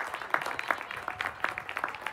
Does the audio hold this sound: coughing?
no